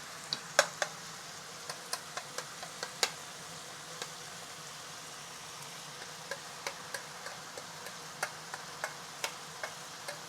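Egg frying in a pan gives a soft, steady sizzle broken by sharp, irregular clicks of a utensil stirring, close and fairly quiet.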